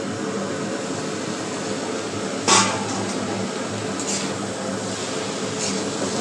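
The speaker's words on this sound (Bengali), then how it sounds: "তো ঢাকাটা খুলে দেখবো আমি এবার।" A lid is lifted off a pan of frying potatoes with a single close metallic clank, set against a steady hiss of sizzling that carries on throughout.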